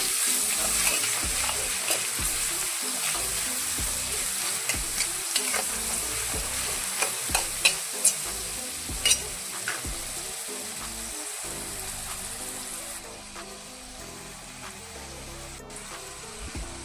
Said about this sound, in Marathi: त्यानंतर बारीक केलेली मिरची चांगले मिक्स करून घ्या.